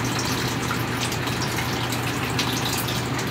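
Water running from a small pump and overflowing, a steady loud gushing splash that stays constant throughout with no voices.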